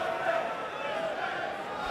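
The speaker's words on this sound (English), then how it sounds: "This crowd is getting louder and louder." A large crowd murmurs and cheers at the 2016 Mosconi Cup pool match between Europe and the USA, a steady, fairly distant roar of many voices filling the arena.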